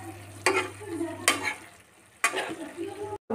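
A spoon stirs tomato, turmeric and ground spices into frying peas, carrots, broccoli and mushrooms in a pan, a few scraping strokes over a steady soft sizzle, close up with no talk.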